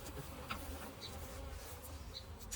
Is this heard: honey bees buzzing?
yes